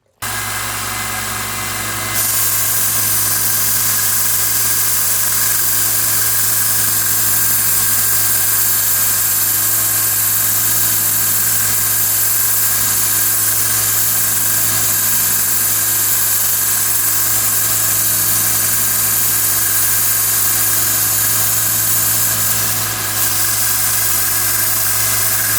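A power sander works rusty, pitted metal with 120 grit sandpaper, giving a steady, close, continuous whirring grind with a constant motor hum and no pauses or talk.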